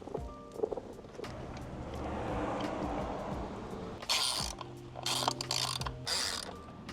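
A ratchet tightens the bolts on a motorcycle air filter cover, giving close, quiet mechanical clicking over a low hum, with bursts of faster ratcheting near the end.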